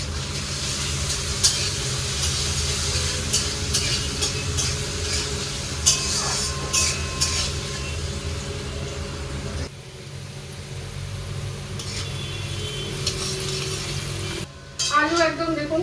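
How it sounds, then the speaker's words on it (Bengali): Potatoes fry in a pan with a continuous close sizzle, scattered clinks of a utensil and a low background hum, dipping briefly near the end before resuming. "আলু একদম দেখুন মোটামুটি ভালোই ভাজা হয়ে গেছে।"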